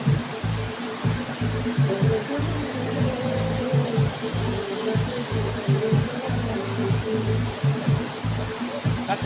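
A knife is washed under a heavy stream of water during pineapple pickle preparation, probably beside a waterfall, making a loud, continuous rushing splash with a pulsing low rumble. It stays steady and close, with no one talking.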